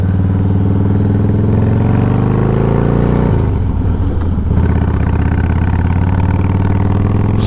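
A Harley-Davidson Softail motorcycle with about 16,000 miles runs loud and close, its steady engine note dropping and changing pitch midway as it shifts gears.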